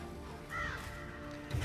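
Crows caw in Gwent as the Crows card is played, a short burst of harsh calls over a dense, steady game music bed, with a low thump at the end.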